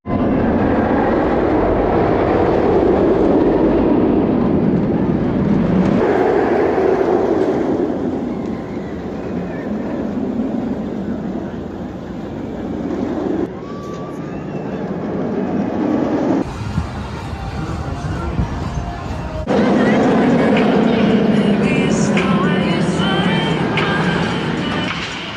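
Raptor, a B&M inverted roller coaster at Cedar Point, roaring loudly and continuously with a deep rumbling rush that swells and shifts as the train passes, heard from nearby.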